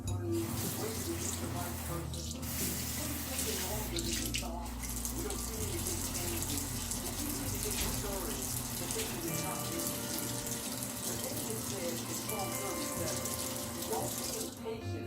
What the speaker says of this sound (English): So I'm gonna wash my face.